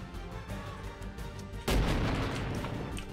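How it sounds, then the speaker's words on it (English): A grenade detonates in a war video game, a single loud, close boom that sets off a broad burst of noise and rumble, lingering as a long decaying roar. "Throwing grenade."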